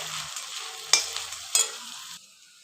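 Sago coated in crushed peanuts stirred and fried in oil in a pan, soft sizzling with two sharp scraping clinks of the spoon, then fading quiet.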